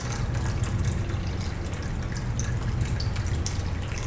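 Water trickles and drips steadily during a church worship service, a constant close splashing wash with scattered brighter drops throughout.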